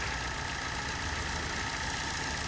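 A 2010 Hyundai i20 Asta petrol engine idles with an even, continuous hum and faint mechanical whir, heard close and steady with no voices.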